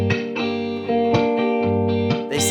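Guitar picking minor chord tones on the top three strings with an effects-laden tone, several notes ringing and overlapping in a steady, unhurried sequence, played alone and clearly.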